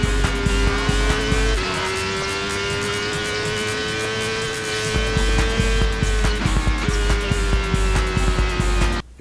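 A racing engine from the Moto Racer video game drones loud and steady, its pitch rising and shifting as the motorcycle weaves through highway traffic in France, with some squeals and rushing passes and no talk.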